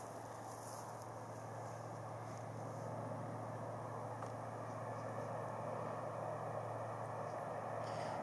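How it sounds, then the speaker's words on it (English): Distant road traffic in open countryside, a steady broadband hum that holds unbroken throughout with no distinct passing vehicles. "bit of a noise of traffic"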